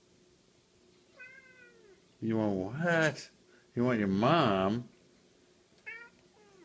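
A cat meows softly a couple of times, with a person talking loudly in between the meows.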